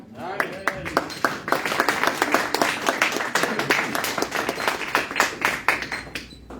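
A church congregation applauds together, a steady run of dense hand claps filling the space at moderate loudness, with voices mixed in among the clapping.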